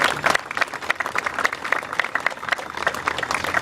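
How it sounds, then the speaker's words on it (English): A crowd at a town bicentennial closing ceremony applauds, a dense, continuous patter of many hands clapping at moderate distance for the full stretch. "Let's give her a round of applause."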